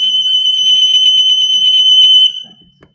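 A shrill ADT Impassa home security alarm sounds loudly in a fast warbling pulse, then stops suddenly, leaving a few faint clicks and rustles.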